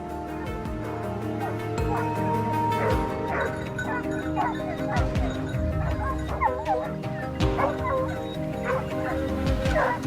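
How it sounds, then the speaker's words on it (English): Hunting dogs bark repeatedly out in the woods, sharp yips and whimpers overlapping in an irregular chorus, fairly close, with a voice faintly underneath. "the sharp barks of the hunting dogs ring out"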